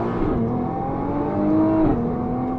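A 2021 Nissan GT-R launches hard from a standstill, its engine note rising steadily through the gears with a continuous whirring drone heard from inside the car, loud and close, no talking.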